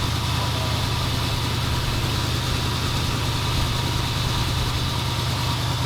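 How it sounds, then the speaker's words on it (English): A 1977 Ford F250 pickup's 351 V8 idles high on the choke, a steady, close, loud rumble with a slightly uneven beat and no talk over it. "Now the choke is on, so it's gonna idle high."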